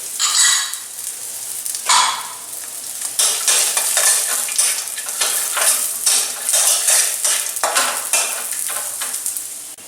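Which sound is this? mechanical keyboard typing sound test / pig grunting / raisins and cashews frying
raisins and cashews frying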